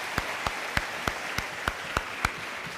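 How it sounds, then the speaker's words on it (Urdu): Sparse, evenly spaced claps, about eight sharp single hits in a slow rhythm, sound over a steady background hiss in a Ramadan television studio, with no voices. "بہت بہت تالیاں شاید آفریدی کے لیے۔"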